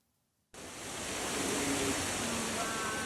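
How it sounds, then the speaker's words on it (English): Flood water rushes through narrow town streets on the Greek island of Skiathos during heavy storm rain, a loud broadband roar that starts abruptly after a brief quiet moment and then holds steady. "Water cascades through the narrow streets of Greek towns and cities."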